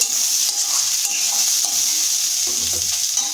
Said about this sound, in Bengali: তারপর ভালো করে নেড়ে ছেড়ে ভেজে নেব।